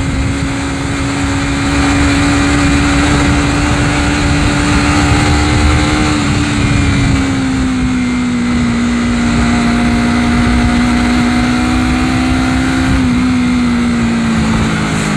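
A Honda CBR250RR motorcycle fitted with a 3Tech Evox X5 Silent Black exhaust holds a loud, steady engine hum, the pitch shifting slightly with light blips of the throttle, alone without voices.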